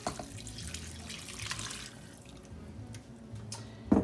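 Two cups of beef broth pour into a soup pot, a steady splashing trickle of liquid heard close up, continuing throughout with a brief clunk at the end.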